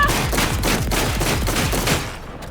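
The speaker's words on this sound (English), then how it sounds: "It's like rapid fire shotgun." Rapid shotgun blasts from a fast-firing weapon in the game Cyberpunk 2077, a dense, loud volley of booming shots packed close together that cuts off abruptly near the end.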